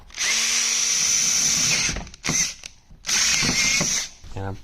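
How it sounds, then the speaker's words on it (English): Power drill boring out triangle security screws on a Noco Genius Pro battery charger, running in two sustained loud bursts with short pauses and a brief ratcheting whir at the end. "So I have to drill this out to the next size up."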